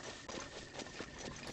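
Horse hooves clip-clop at a steady riding pace in The Legend of Zelda: Breath of the Wild, rhythmic and soft beneath a constant game ambience, with no voices.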